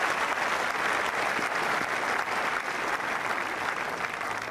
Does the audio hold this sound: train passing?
no